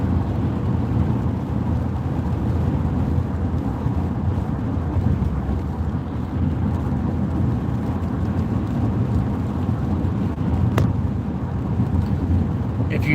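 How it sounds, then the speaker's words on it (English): Steady rain patters outdoors as the weather closes in, a dense, constant hiss with low rumble and wind buffeting the microphone throughout, no voices over it. "now the rain's catching up with us."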